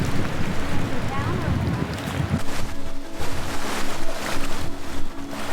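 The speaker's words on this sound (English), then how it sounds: "It's so violent. The water." Rough sea water churns and crashes close by on the Maine coast, with wind buffeting the microphone throughout.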